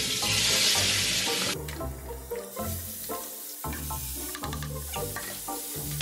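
Chicken frying in a hot pan at home, a steady sizzle with stirring and some water-tap noise, close and fairly loud with no talking.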